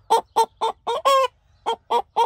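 Hens cluck in a chicken coop, a close, loud series of eight short rhythmic clucks with a brief pause partway through, and no talk.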